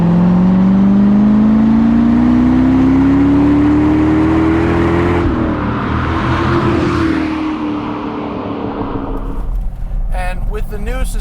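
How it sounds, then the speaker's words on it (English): A Corvette C6 with a Magnaflow catback exhaust drives at speed, its engine note rising steadily under acceleration, then a gear change and a loud rushing blend of exhaust and road noise, close and continuous. "this Magnaflow catback unit is designed to not drone"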